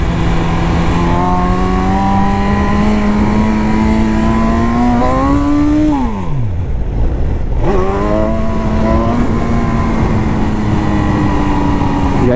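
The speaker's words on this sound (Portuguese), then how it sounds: "encostou outro carro ali" A car engine at an otherwise empty race track hums steadily and climbs slowly in pitch, then briefly drops away before settling back into a close, continuous drone.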